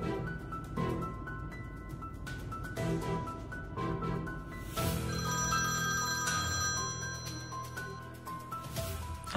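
Phone ringing as a call is placed, a steady repeating electronic ring tone over a room background with a louder, denser ringing section in the middle and no speech.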